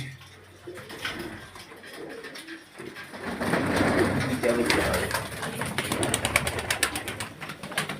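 Soft pigeon coos start out sparse, then a denser, louder stretch of cooing and rustling fills the second half.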